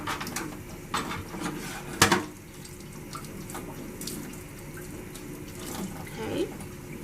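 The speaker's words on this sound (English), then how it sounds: "we're gonna rinse the rest of our instruments" Dental instruments rinsed under a running tap in a sterile processing decontamination sink, with steady water flow, light clinks of metal and occasional knocks, fairly close.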